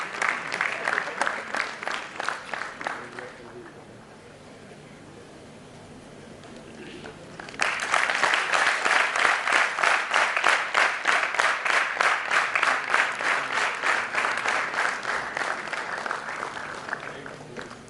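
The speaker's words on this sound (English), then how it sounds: "A huge round of applause once again for Mr. Avinav Verma" Audience applause at an opening ceremony prize announcement rings out in two bursts, a dense clapping round, a quieter lull, then a louder sustained wave of many hands clapping.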